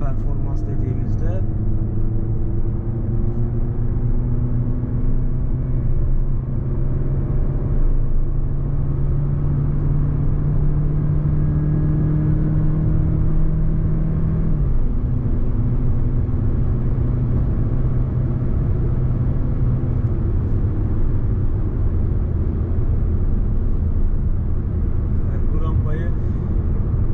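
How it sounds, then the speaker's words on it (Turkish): A Fiat Egea Hybrid Cross Wagon climbs a hill in sixth gear at about 2000 rpm, its steady low engine drone and road noise holding evenly and loud inside the car while a voice talks over it. "şu an 6. vites 2000 devirde araç hiç boğulmadan rampayı çıkabiliyor"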